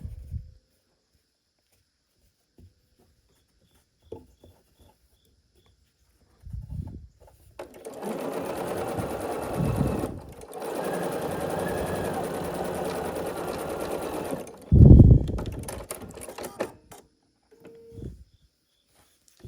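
A sewing machine stitches quilt block pieces with a quarter-inch seam for an evergreen tree block, running in steady bursts of several seconds with short pauses and a few handling knocks between them.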